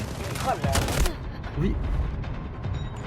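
Shotgun blasts in the Delta Force Mobile shooter game, a burst of sharp loud reports in the first second followed by scattered fainter shots and game noise, with voices murmuring underneath.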